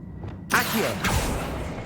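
An Accio spell cast in Hogwarts Legacy: a faint tone cuts off and a sudden whooshing burst of magic hits, then a second rushing surge follows a half second later before fading into a low steady wash.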